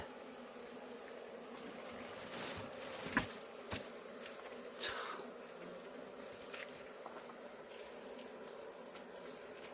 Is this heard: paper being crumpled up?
no